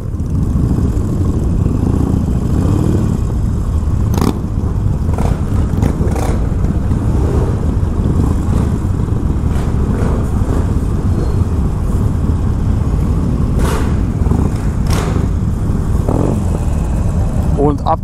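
Around fifty Harley-Davidson motorcycles set off on a group rideout on a sunny day, their engines rumbling and revving continuously nearby, with individual bikes swelling past now and then.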